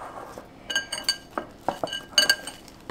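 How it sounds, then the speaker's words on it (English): A bowl scrapes and clinks against a kitchen counter as it is turned while sourdough dough is folded. The knocks and rattles are short, irregular and close, with no talk. "every time I just turn my bowl around a little bit more"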